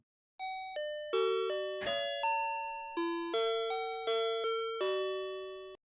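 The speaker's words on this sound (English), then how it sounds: "every time you go into a convenience store, it plays that" A Japanese convenience store entrance chime plays its bright bell-like melody, about a dozen clear ringing tones in a steady sequence, each decaying before the next.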